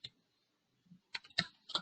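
Typing on a computer keyboard, a few sparse, quiet key clicks close by in a near-silent room.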